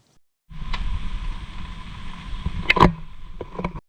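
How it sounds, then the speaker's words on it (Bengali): Heavy rain drums steadily on a country boat in the Sundarbans forest, a dense, continuous hiss that starts abruptly and carries on, broken by a few sharp knocks and bumps partway through. "প্রচন্ড বৃষ্টি হচ্ছে আর সেই বৃষ্টির কারণে"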